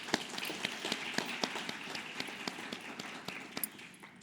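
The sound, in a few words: audience applause for the speakers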